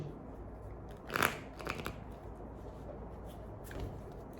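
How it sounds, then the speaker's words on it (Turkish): Tarot cards being shuffled and drawn from the deck, faint close riffling and soft papery flicks in a few short bursts over a quiet background. "3 tane kart çekelim sizler için"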